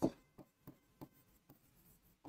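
A marker or chalk taps and scratches on a teaching board in short, evenly spaced strokes, faint and close in a quiet room.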